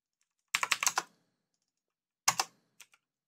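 Keystrokes on a computer keyboard while saving a file with Ctrl S: a quick burst of about five close, crisp clicks, a pause, then a shorter pair of taps and two faint final clicks in a quiet room.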